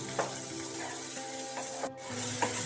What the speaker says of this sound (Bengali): এবার পেঁয়াজ রসুন সব কিছুকে খুব ভালোভাবে ভেজে নিতে হবে।